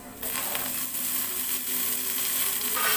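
Coriander and mint leaves hit hot oil for biryani, setting off a sudden burst of close, dense sizzling that keeps crackling steadily, with faint scraping as they are stirred.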